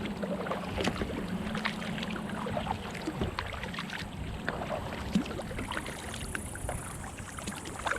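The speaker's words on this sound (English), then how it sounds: "And now I'm kind of paddling into the wind." Paddle strokes from a 12-foot homemade foam and fabric kayak moving into the wind, with water splashing and dripping in an irregular rhythm, close by under steady wind noise on the microphone.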